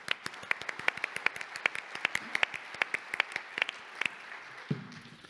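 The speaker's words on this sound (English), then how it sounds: "I think we should really begin by giving them a big round of applause" A small audience at a conference gives the staff a sparse round of applause, distinct individual claps ringing out at an uneven rhythm for about four seconds before fading, with a voice starting at the end.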